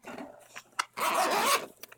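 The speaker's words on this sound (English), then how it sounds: "basic zipper" A zipper on a hair clipper case is pulled in a few short tugs, then one longer continuous zip, close and crisp against a quiet background.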